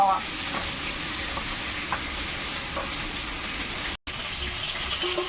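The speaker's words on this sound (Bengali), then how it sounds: "মাছটা ভাজা হয়ে গেছে এখন উঠিয়ে দেবো" Fish fries in oil in a wok, a dense continuous sizzle with bubbling crackle that holds steady, cuts out for an instant, then resumes with faint clinks.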